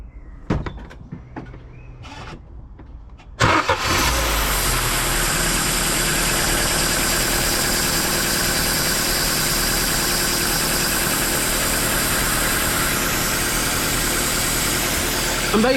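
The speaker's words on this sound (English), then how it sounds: "So when the car's running, it's giving a really bad hissing sound." A car engine idles steadily with a continuous broadband hiss from a split breather pipe, loud and close, starting abruptly after a few seconds of quiet clunks and door-like knocks.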